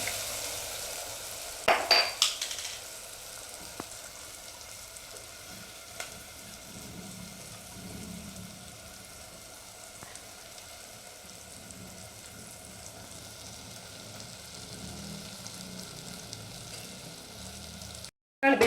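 Ground masala frying in a pan with onions and turmeric for an old-style roasted green gram buttermilk curry, a soft steady sizzle with a brief clatter of stirring near the start and near the end.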